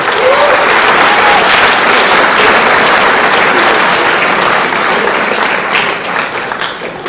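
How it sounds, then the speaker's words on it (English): Audience at a school sports awards evening applauds the season's athletes, a loud, sustained wash of clapping from a crowd close by that tapers slightly toward the end. "Let's give everybody a round of applause."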